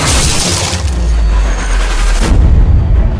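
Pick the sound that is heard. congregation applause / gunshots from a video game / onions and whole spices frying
gunshots from a video game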